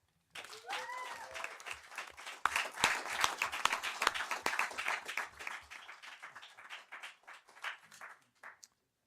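A round of applause at a San Mateo County Board of Supervisors meeting, many hands clapping steadily for several seconds before thinning out and stopping, with a faint voice near the start.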